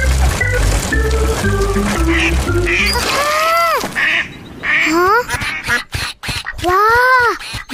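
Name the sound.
ducks quacking in cartoon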